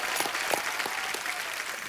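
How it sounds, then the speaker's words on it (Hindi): A comedy show studio audience claps steadily, a dense patter of many hands applauding without pause. "जोरदार तालियां भी इनके लिए।"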